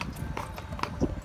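Rhythmic horse hooves clip-clopping on a hard surface, steady and close, with faint voices in the background.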